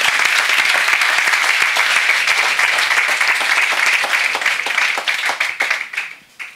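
A church congregation applauds for Jesus during a worship service: dense, loud, sustained clapping from many hands that thins out and fades near the end, with faint voices mixed in.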